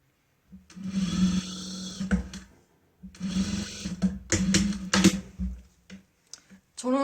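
A sewing machine stitches jacket lining panels together in bursts, running, pausing and starting again with a steady mechanical hum close by, while a person talks between and over the runs.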